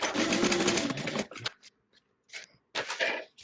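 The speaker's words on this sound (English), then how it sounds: "So we're going to line up the edges and top stitch, or regular stitch, 1/4 inch seam allowance, flip it up, and then top stitch." A sewing machine top stitches a 1/4 inch seam on a fabric bag, running in a loud burst before stopping, followed by a few short quieter bursts and handling noises with gaps of silence.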